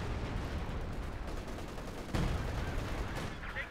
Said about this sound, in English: Stuka throws six rockets in the sky